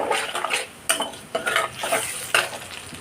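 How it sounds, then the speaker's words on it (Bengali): Paneer masala being stirred in a pan, a spoon scraping and clinking against the metal in several distinct strokes with a faint sizzle underneath, close and fairly loud, no voices. "দিয়ে ভালো করে মিক্স করে নিচ্ছি।"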